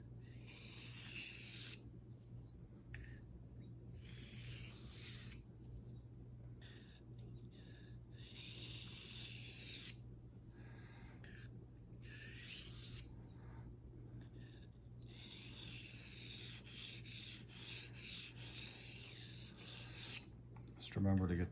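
Repeated rasping swipes of a dull knife being sharpened on a basic generic waterstone, strokes alternating sides with short pauses between them, close and steady with a faint low hum underneath.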